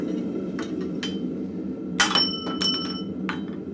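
At a blacksmith forge, a hammer drives a drift punch through hot forged steel, landing a few sharp ringing metallic strikes with short gaps between them over a low background hum.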